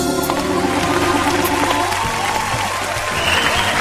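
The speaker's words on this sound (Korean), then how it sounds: "박수로 맞아주세요." An audience claps to welcome a business-manners instructor onto the stage, a steady, fairly loud round of applause with some crowd noise mixed in.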